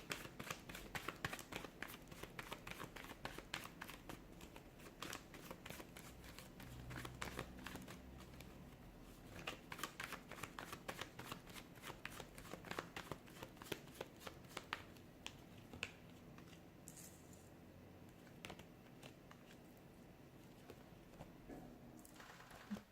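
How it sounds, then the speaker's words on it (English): Tarot cards are shuffled repeatedly in a soft, rapid riffling patter, close and fairly quiet, continuing steadily with no voices. "give the cards a shuffle and begin"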